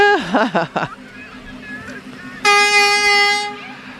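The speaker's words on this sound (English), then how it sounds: "We do have some competitive horns this evening." Loud vehicle horns honk at an evening Christmas parade in Oak Ridge, first a wavering multi-tone blast, then a sustained steady horn lasting about a second, with crowd murmur underneath.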